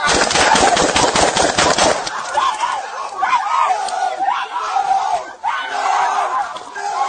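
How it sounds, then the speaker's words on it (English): Rapid bursts of gunfire ring out at a Main Event Entertainment Center during a police shooting, a dense volley over the first two seconds, then shouting voices and crowd commotion continue loudly. "Shots fired."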